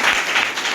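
Classroom of students applauding together after a teacher's prompt during a Hindi lesson, a dense, steady wash of many hands clapping at once, close and loud throughout the short burst with no talk over it.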